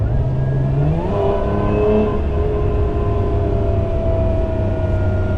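A Lotus Emira V6 sports car's engine revs and pulls steadily, a loud, continuous mechanical drone whose pitch climbs and then holds, heard close with no talking.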